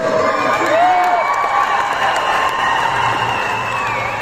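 A crowd of spectators at a tug of war match cheering, whooping and shouting loudly, a dense roar of many voices with some clapping mixed in, close and sustained.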